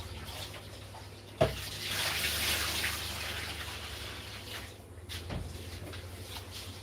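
Tap water running into a sink while rice is rinsed, a steady close splashing flow with a sharp knock near the start and a brief pause before it continues.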